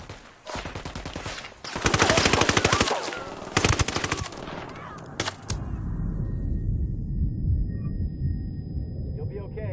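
Rapid automatic gunfire and sniper shots in a video game, loud clattering bursts in the first half followed by isolated cracks and a rumbling low background, with voices talking over the action.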